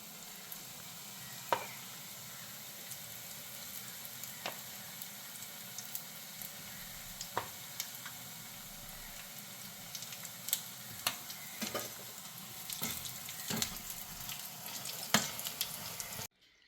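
Pakkavada fritters fry in hot oil over a low flame, a steady soft sizzle with scattered pops and clinks, close and continuous with no talking.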